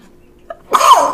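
A single short, sharp sneeze bursts out close and loud after a faint catch of breath.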